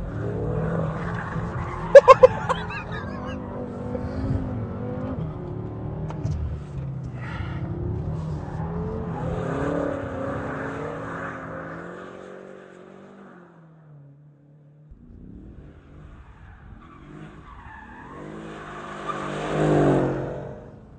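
Mercedes-Benz E63 AMG S sliding in oversteer, its engine revving in a steady, wavering roar for about twelve seconds with a brief sharp squeal near the start, then easing off before a second rising burst near the end.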